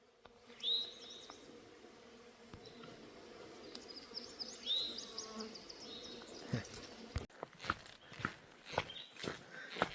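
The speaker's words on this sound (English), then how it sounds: "the bees are humming." Faint bee buzzing hums steadily in the background outdoors on the Appalachian Trail near Jonestown, Pennsylvania, with a few bird chirps early on and soft footsteps crunching in the last few seconds.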